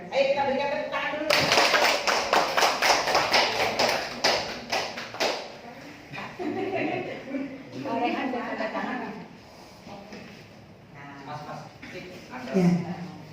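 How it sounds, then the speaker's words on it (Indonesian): Applause from an audience at a school presentation on positive culture, a burst of clapping that swells loudly for several seconds then thins out, with voices and talk continuing afterward. "Ayo kita berikan tepuk tangan dulu."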